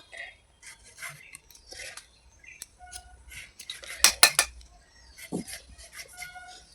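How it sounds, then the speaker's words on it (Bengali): Knife thinly slicing tomatoes on a cutting board in a home kitchen, a series of quick close taps and clicks with a few louder clatters midway, no talk. "টমেটোটা কেটে নেব, একদমই পাতলা পাতলা করে টমেটোটা কাটবো।"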